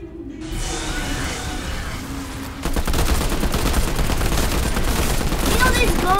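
Rapid pistol gunfire in a Roblox zombie-shooting game, a dense run of loud bursts that thickens halfway through over game noise, with a voice talking faintly underneath.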